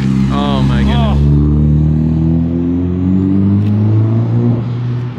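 Car engine idling steadily as the idle is adjusted, with a continuous low drone rising and settling slightly; a voice talks briefly over it at the start.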